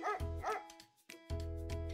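A small dog barks twice, then after a short pause gives two more yips, set against a soft musical bed in a children's educational setting; fairly quiet overall.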